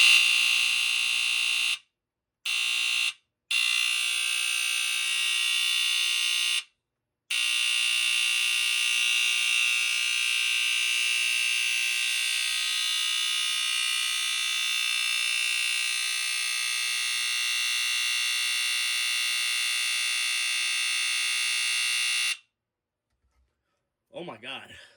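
Firex FX1020 smoke alarm blaring a loud, piercing high-pitched continuous tone up close, with a few short breaks early on and a sudden stop near the end.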